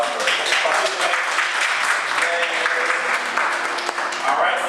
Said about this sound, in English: Everybody give them a round of applause for participating